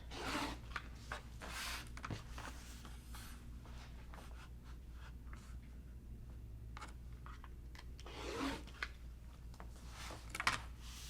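Scissors trim the edge of cross stitch fabric, soft close snips and rustling cloth in scattered bursts against a quiet background.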